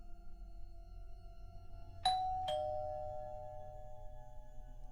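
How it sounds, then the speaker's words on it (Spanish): Two electronic doorbell dings ring out in quick succession over a quiet humming background, each tone lingering and fading, with no speech. "Aprieto de nuevo el timbre,"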